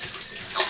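Leather hide being swished around and squeezed in a tub of rinse water, giving a steady close sloshing wash that swells into a brief louder splash near the end.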